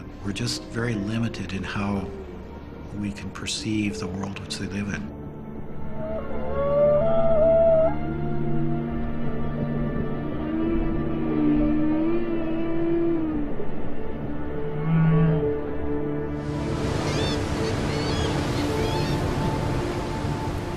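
Humpback whales sing underwater in long, sliding tonal moans and higher whistled swoops, overlapping and echoing, with faint clicks early on and a broad hiss of ocean noise swelling near the end.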